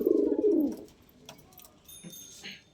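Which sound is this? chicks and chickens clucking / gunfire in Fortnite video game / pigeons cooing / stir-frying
pigeons cooing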